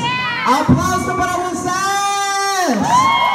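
A festival crowd whoops and cheers loudly, with sustained shrill yells and cries rising together over a dense background roar, close and energetic throughout.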